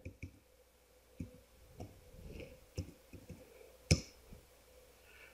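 Keys tapped on a keyboard while a new Windows 10 password is entered: scattered soft clicks and ticks at an irregular pace, fairly quiet and close, with one sharper tap near the end and no speech.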